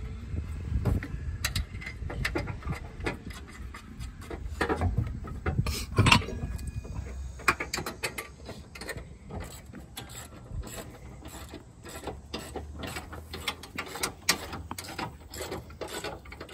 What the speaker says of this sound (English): I'm just gonna get this bolt back down in here.